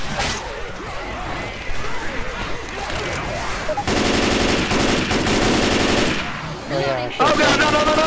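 Rapid bursts of gunfire from the zombie video game Left 4 Dead 2 during a co-op finale, loud and sustained with dense automatic volleys and crashes, while players talk over it.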